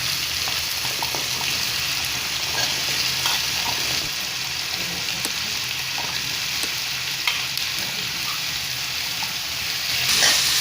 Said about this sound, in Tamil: காலிஃப்ளவர் நல்லா கலந்துக்கோங்க.